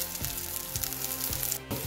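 A thin cake layer frying in a pan over medium heat, steady soft sizzling with occasional scraping clicks of a utensil against the pan, heard up close with no talk.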